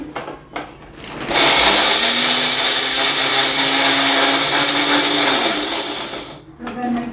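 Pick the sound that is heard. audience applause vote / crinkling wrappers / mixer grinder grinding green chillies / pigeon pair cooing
mixer grinder grinding green chillies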